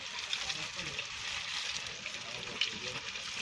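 Food frying in hot oil while goats are tended, a steady close hiss and sizzle with faint crackles running throughout, with no voices over it.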